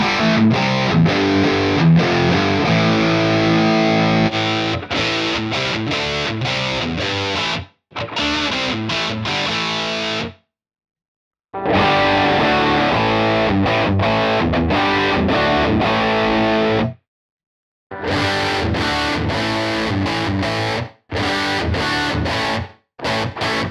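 An electric guitar runs through a series of Ox-Box amp presets, with heavily distorted chords and riffs played in bursts and short silences between them. Some passages carry a built-in reverb.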